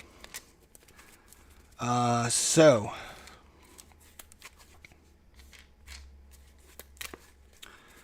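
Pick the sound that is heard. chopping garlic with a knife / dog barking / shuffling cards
shuffling cards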